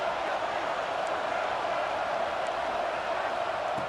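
Stadium crowd noise from a Notre Dame vs Alabama football video game, a dense, steady roar of a large cheering crowd that holds at an even level throughout without breaks.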